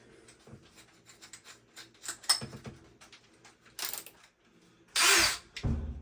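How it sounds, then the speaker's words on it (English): Short bursts of a power drill whir on and off while drilling holes to mount an LED flat panel light, with clicks and handling noises between them; the last few bursts are the loudest and closest. "So we're going to grab our drill"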